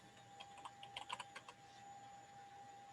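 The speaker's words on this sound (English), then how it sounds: "I'm gonna type in brake rotor" A short burst of keystrokes on a computer keyboard as a search is typed, soft and close, with quick uneven taps for about a second before falling quiet.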